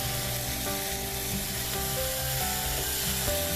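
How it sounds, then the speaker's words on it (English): Ginger garlic paste fries in a pan with a steady, dense sizzle that runs unbroken throughout, close and loud, with faint scraping of stirring underneath and no voices. "We'll keep on cooking till the rawness of the ginger garlic paste is gone."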